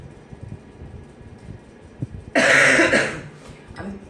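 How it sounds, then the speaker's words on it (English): A person gives one loud, harsh cough close to the microphone, followed by a smaller second burst, after a quiet stretch of faint movement and breathing. "I'm bringing a cough with me from London."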